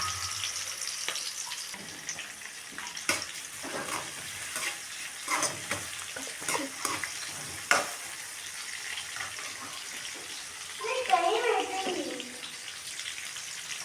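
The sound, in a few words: onions frying in oil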